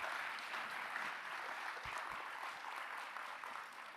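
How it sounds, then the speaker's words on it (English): Town hall audience applause, steady scattered clapping from a crowd heard at a moderate distance and sustained for several seconds. "You can clap now."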